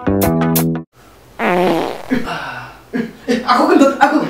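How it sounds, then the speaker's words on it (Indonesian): A loud, buzzy fart sounds close up for nearly a second, then after a short pause people talk and chuckle over it. "Aku kentut, aku yang kentut."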